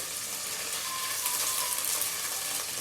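Green chili, carrot, mint, curry leaves and tomatoes frying in a pan for sambar, a steady, soft, hissing sizzle close by with no voices.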